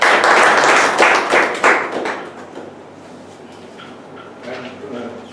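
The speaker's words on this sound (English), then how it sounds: "giving a big round of applause" Applause from a Toastmasters meeting audience for the table topics master, loud clapping for about two seconds that fades into quieter room sound, with voices murmuring.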